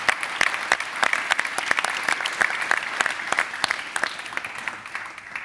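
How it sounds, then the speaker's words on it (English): A conference crowd applauds a guest named Blanca, many hands clapping in a steady, full round that holds strong before easing slightly toward the end. "Let's also give a big applause again to Blanca,"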